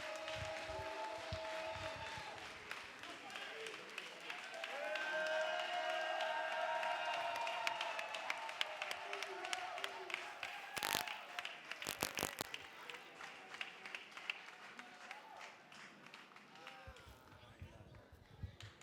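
Audience at an evening party breaking into faint, dense applause after a long stretch of murmuring crowd noise and voices, with the clapping building through the second half.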